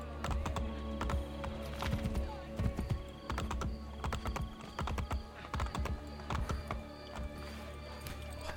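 Horse hooves clop on city streets in Assassin's Creed Brotherhood, a quick, uneven run of close clicking strikes that lasts throughout, with someone talking over it.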